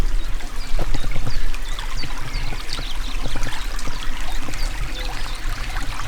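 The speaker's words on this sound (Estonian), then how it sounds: "Kus vuliseb kena väike ojakene." A small forest brook with a sandy bed and clear water babbles and gurgles steadily nearby, a lively continuous trickle with no talking.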